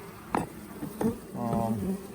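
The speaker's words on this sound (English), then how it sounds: "There are quite a few bees in here." Honey bees hum inside a hive brood box during an inspection on a hot summer day, a low steady drone with a few sharper passes close by, and some soft handling noise.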